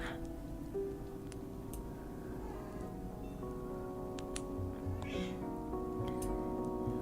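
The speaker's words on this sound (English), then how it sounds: "The cat has something to say." A cat meowing indoors in a room, several short meows over a low background hum, with a faint voice now and then.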